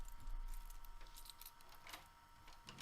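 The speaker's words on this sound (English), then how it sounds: "it's just like a jingling of keys and a locking of keys" A jingling-keys and lock-turning sound effect layered into a hard trap drop, with soft metallic rattles and small clicks scattered across a few seconds, quiet and close.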